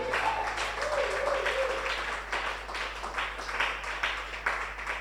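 A church congregation applauds and cheers, with a steady wash of clapping and raised voices that swells in waves, over a low constant hum.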